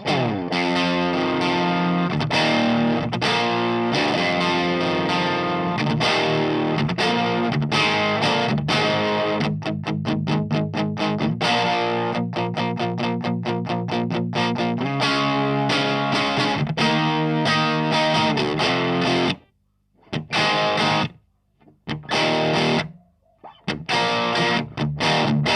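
A cranked 1974 Hiwatt amp pushes an electric guitar into a thick classic-rock distortion, sustained chords and fast choppy strums ringing loud, then breaking into short stabs separated by sudden silences near the end.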